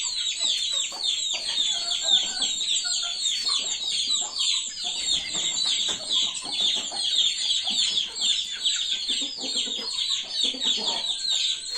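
A flock of native country chickens with a rooster keeps up a busy, overlapping chorus of clucks and chirps close by, steady from start to finish.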